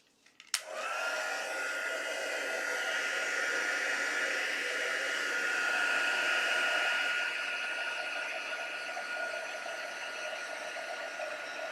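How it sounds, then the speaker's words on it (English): A heat tool blows hot air onto Stampin' Up heat and stick powder, switching on with a click and then running as a steady, loud, close whoosh of air for about eleven seconds. "Now we'll bring in the heat tool."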